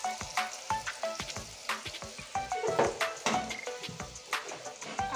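Potatoes for chicken curry fry in a kadai. A crackling, spitting sizzle comes with frequent sharp pops and clicks, close and lively throughout, with no talking.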